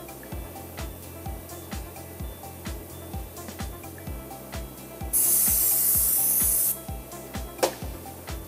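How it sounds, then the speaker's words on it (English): Non-residual contact cleaner sprayed from an aerosol can onto the seal face of an Ebsray R75 regenerative turbine pump: one steady, loud hiss lasting about a second and a half, over a rhythmic mechanical thumping in the background. "clean the face with non-residual contact cleaner or"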